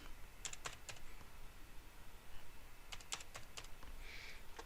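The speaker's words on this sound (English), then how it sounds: "if you want, you can type in what you want" Bursts of typing on a computer keyboard, two quick clusters of key clicks separated by a pause, close and fairly quiet over faint room noise.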